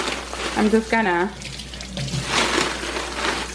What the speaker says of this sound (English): I'm wetting my hands and then just kind of welcoming the water onto them.